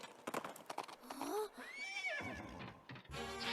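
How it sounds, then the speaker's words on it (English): A classic horse neigh sound effect from the video game Princess Peach Showtime gives a loud, rising and falling whinny lasting about a second, amid clip-clopping hooves and other game sounds. "I know that is just like a horse sound effect that's been used forever"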